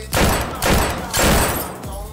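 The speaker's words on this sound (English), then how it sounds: "I'm being shot somewhere" Gunshots in the VR game John Lazarus, four loud, evenly spaced blasts, each with a ringing tail. A voice is faintly present underneath.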